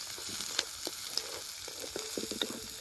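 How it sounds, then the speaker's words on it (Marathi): Onion frying in a pan on a wood-fired stove, a continuous close sizzle broken by scattered scraping taps of a spoon as it is stirred, with no voices. "आपल्याला कांदा चांगला आहे परतून घ्यायचा चांगला चांगला कांदा आपल्याला लाल हो, लाल होऊन द्यायचा आहे"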